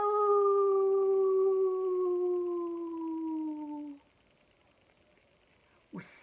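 Voice imitating a sad wolf howl, one long, drawn-out, mournful note that slowly falls in pitch for about four seconds before fading into near silence, with a short sharp sound at the end.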